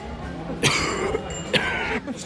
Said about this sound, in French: Attendez comment je tousse